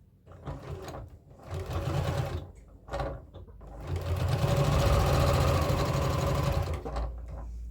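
A sewing machine stitches fabric squares down a center line in several close, buzzing runs of rapid needle strokes, starting with short bursts and building to one long steady stretch of stitching.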